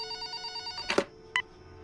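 A telephone rings in a quiet room, a steady electronic ring with harmonic tones, followed by a brief clatter as the handset is set down on its cradle and another short ring burst.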